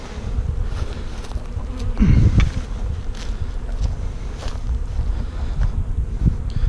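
Honeybees buzz in a steady, dense drone while packages are installed into three hives, a swarm hum close to the microphone with light wind noise and a brief louder swell partway through.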